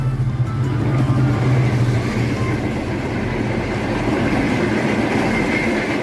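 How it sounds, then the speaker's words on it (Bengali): The Banalata Express, a nonstop Bangladeshi passenger train imported from Indonesia, runs as a steady, loud rumble with a soft rhythmic clatter of the wheels that continues evenly throughout, with no voices. "বনলতা এক্সপ্রেস ট্রেনটি ইন্দোনেশিয়া থেকে ইম্পোর্ট করা হয়েছে"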